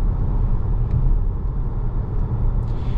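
A 2024 Cadillac XT4 with a 9-speed transmission accelerates at half throttle, its engine a steady, fairly loud low rumble heard from inside the cabin with no talk.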